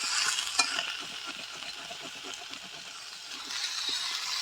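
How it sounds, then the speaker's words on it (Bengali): Chicken feet stirred into fried ginger-garlic paste in a pan give a steady close sizzle. Soft scraping stir strokes run beneath the hiss. "পাগুলোকে হালকা ভাজবো"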